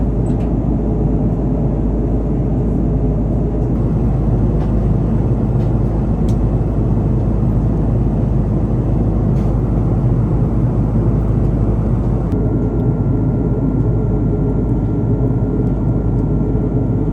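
Steady, even cabin roar inside a Hawaiian Airlines Airbus A330 in flight out of Anchorage, a constant deep rumble with airy hiss that holds unchanged throughout, with no voices.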